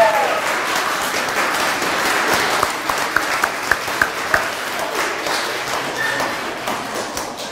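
Audience applause for a junior dictation contest winner at a belfry in Sluis: a steady, dense wash of many hands clapping throughout, with a few sharper nearby claps standing out midway.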